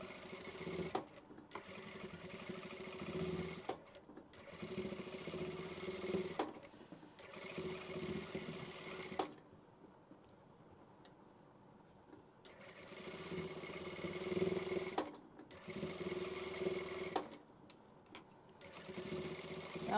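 Sewing machine stitching fabric strips for decorative strip curtains runs in several bursts of rapid mechanical whirring, with short pauses between runs and one longer quiet gap in the middle.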